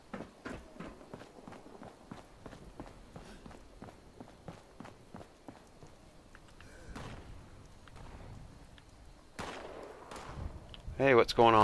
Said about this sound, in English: I don't know who they're shooting at.